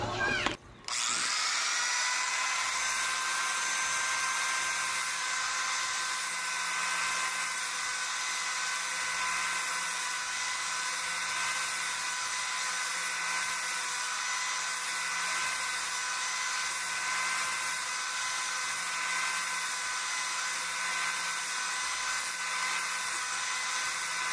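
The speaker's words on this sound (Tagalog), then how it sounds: "Gamit itong ating grinder, flap disc." An angle grinder fitted with a flap disc polishes a metal nunchaku, giving a loud, steady high-pitched whine that runs unbroken for the whole stretch after a brief start, with no talking.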